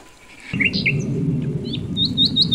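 Bulbul song: bright, sweet chirping phrases over a steady low background hum, with a quick run of repeated rising notes toward the end, clear and fairly close.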